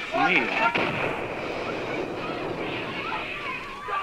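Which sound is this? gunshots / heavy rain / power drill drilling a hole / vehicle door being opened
gunshots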